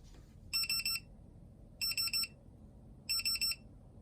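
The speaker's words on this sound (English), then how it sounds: "This is also an alarm clock" A ClocTeck Nixie tube alarm clock sounding its alarm: three evenly spaced bursts, each a quick triple of sharp high electronic beeps, loud and clear against a quiet room.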